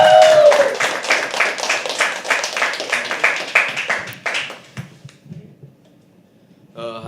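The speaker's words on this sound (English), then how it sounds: "Keep clapping." Audience applause at a live poetry open mic night at The Habitat, a dense burst of clapping for a first-time performer that fades out after about four seconds into near quiet, with a brief sound at the end.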